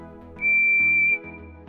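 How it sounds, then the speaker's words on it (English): Percy the small green tank engine's steam whistle from a Thomas the Tank Engine episode sounds one loud, steady, high tone for nearly a second, alone over a soft musical background that carries on before and after. "The close-up of Percy's whistle is from the Old Master."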